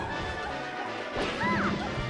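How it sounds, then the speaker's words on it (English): A forward smash lands in Super Smash Bros. Melee with one punchy, crunchy impact midway through, set over busy game sounds and crowd noise. "Forward smash."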